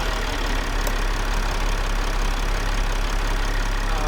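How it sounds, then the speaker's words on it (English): A diesel generator engine idles steadily, a constant low rumble with no change in pace across the whole stretch, loud and close. "Okay, the engine running."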